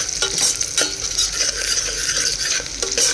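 Mixed vegetable curry, Dhaba style, fries in a pan while a utensil stirs and scrapes it in repeated strokes, over a constant loud sizzle close up.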